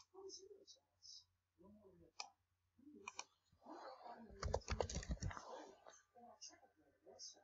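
Computer keyboard keys clatter in a quick burst of typing and clicking, close and fairly loud, set between short stretches of quiet speech.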